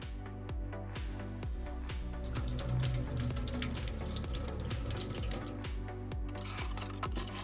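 Water runs from a newly connected kitchen sink tap beside a built-in barbecue counter, a steady faint splashing stream with small irregular knocks and drips throughout.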